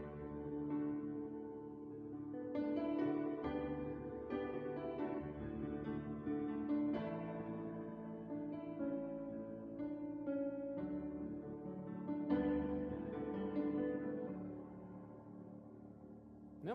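A Roland digital piano set to a fully closed simulated lid plays a soft, somewhat muffled chordal passage with a gentle melody, quiet and close with no talking.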